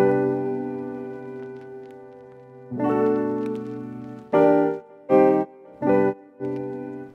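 Piano run through the SSL Fusion Violet EQ plugin in echo mode, sustained chords at first, then a series of short, clipped chord stabs with gaps between them; no voices.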